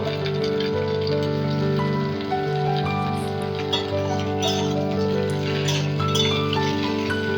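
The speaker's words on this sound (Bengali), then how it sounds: "টমেটোগুলো আমি সব দিয়ে দিচ্ছি, দিয়ে এবার ভালো করে তেলের ওপরে আমি নেড়ে চেড়ে নেব" Green tomatoes stirred around in hot oil for a spicy tomato dish, giving a steady dense sizzle with light clinking scrapes of a utensil against the pan throughout, close and continuous with no talking.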